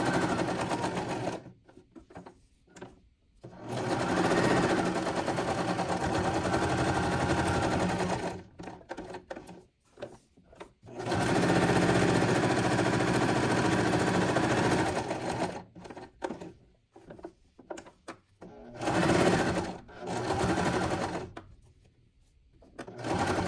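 Close, loud bursts from a sewing machine stitching a fabric bookmark with a pocket, running in several long runs and shorter spurts broken by brief silences.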